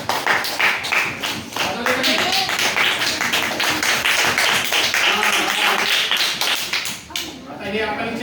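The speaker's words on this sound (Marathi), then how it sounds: "हिच्यासाठी पण टाळ्या वाजवा." Children in a classroom clapping together in quick, uneven rhythm, loud and close for several seconds, with some voices mixed in.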